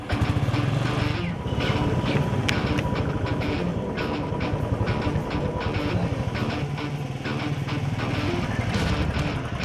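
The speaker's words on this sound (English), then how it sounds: "we'll get a person to drive a bullet motorcycle on top of each of these phones." A Bullet motorcycle is driven over phones laid on concrete, its engine rumbling loudly and continuously up close, with a busy, rattling texture throughout.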